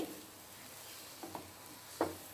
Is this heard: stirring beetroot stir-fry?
yes